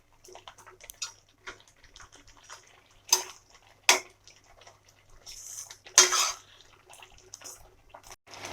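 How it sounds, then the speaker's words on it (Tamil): A spoon scrapes and clinks against a pan while halwa is stirred as its melted sugar dries down, giving scattered soft taps with a few sharper metallic knocks, close and alone. "இது சுகர் இந்த தண்ணியெல்லாம் நல்லா ட்ரை ஆகி ஹல்வா மாதிரி வர வரைக்கும் நல்லா மிக்ஸ் பண்ணிக்கிட்டே இருங்க"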